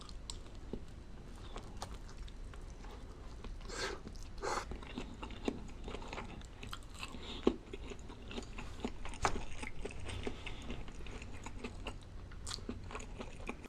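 Close, steady chewing and biting of meat dumplings with soft wet crunches, repeated throughout with no one talking.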